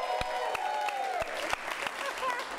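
Audience clapping at an improv comedy show, a dense wash of claps with a few cheers and whoops rising over it, steady and loud for a couple of seconds as the crowd votes for a film.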